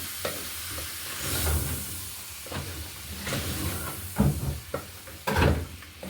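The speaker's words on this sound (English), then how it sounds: "Then you just stir," Beef stew with green pepper is stirred in a pot, giving repeated scraping, sloshing strokes over a soft sizzle and hiss. The strokes come at an irregular rhythm, close and moderately loud, with no speech.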